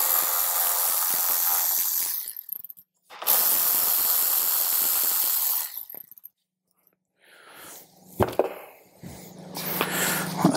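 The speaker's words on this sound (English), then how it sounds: "Let's go ahead and remove the two bolts at the rear of the battery tray." A ratchet backs out the bolts on the battery tray of a Harley-Davidson CVO motorcycle in two long bursts of fast, loud, close clicking, followed by quieter handling and clanks of the tool.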